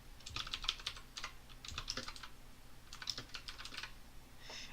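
Quiet bursts of rapid keystrokes on a computer keyboard, clicking in quick clusters separated by short pauses, alone with no talk.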